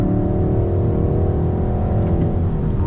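Engine of a 2021 Hyundai Sonata N Line revving steadily under braking and downshifts, a loud, continuous low drone filling the whole stretch with no pauses.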